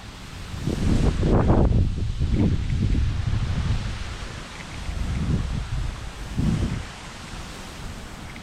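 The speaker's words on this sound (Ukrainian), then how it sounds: "Вітер. Вітер." Strong wind roars and buffets outdoors while fishing, in rough gusts, swelling and easing, with rustling and low rumbling against the microphone.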